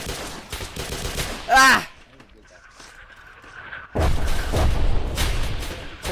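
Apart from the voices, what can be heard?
gunfire in Roblox video game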